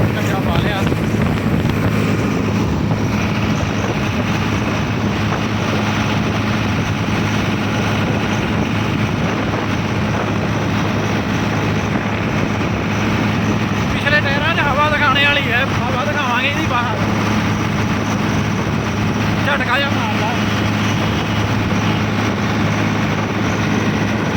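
A heavy tractor engine drones continuously at close range, a steady low rumble with wind buffeting, and a voice briefly speaks over it.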